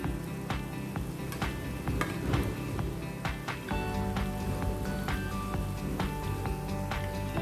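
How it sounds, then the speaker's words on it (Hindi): Samosas deep fry in oil on a low flame with a constant dense sizzle, while sharp pops and crackles burst through it now and then. "इसको भी लो फ्लेम पे हम तलेंगे"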